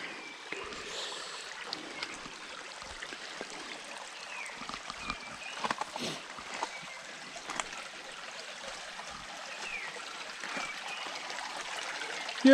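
A mountain stream flows and trickles in a steady, moderate wash with small splashes, heard alone without talk.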